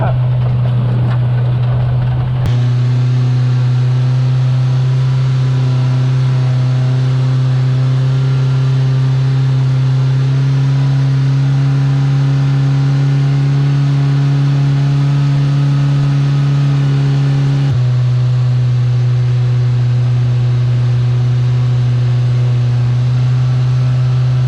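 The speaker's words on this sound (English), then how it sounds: "we're going to try to fire it up again and see if I can drive it out" A car engine starts, then holds a steady, loud running drone with a shift in pitch partway through and another change near the end, close up with no talk.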